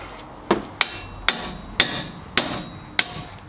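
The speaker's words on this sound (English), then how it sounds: "Take a hammer." A hammer taps a strut bolt on a 1999-2009 Saab 9-5 front strut six times in a steady, evenly spaced rhythm, each strike sharp and ringing, close by with no talking.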